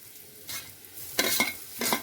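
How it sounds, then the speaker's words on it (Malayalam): Coconut and shallots fry in hot oil for a raw jackfruit thoran, stirred in three short sizzling bursts with quieter crackling between them, close and with no voices. "ഇട്ടിട്ട് നന്നായിട്ട് ബ്രൗൺ കളർ ആകുന്ന വരെ തേങ്ങയൊന്ന് വറുത്തെടുക്കണം"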